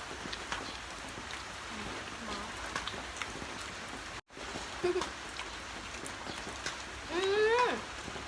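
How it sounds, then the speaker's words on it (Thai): Steady rain patters and hisses across a roof, with a brief dropout midway and a sharp rising squeal near the end. "ฝนมันตก"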